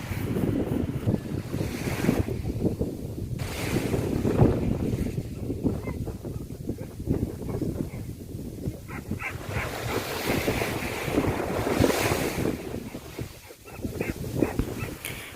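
Steady roar of surf and gusting wind buffeting the microphone on White Beach, El Nido, Palawan, with a dog barking now and then in the background.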